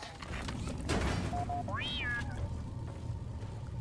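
A pet cat gives a single clear, rising-then-falling meow near the middle, close by over a low, steady background rumble.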